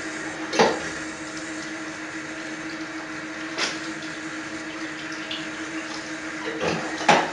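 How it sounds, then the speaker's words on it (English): Tap water runs steadily while black-and-white film developing equipment is rinsed out, with a few sharp clunks of the gear being handled at the sink. "So I'm gonna rinse this out real quick."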